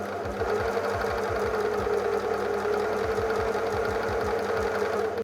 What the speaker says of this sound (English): I'm gonna sew it on the same way, placing the elastic into the seam.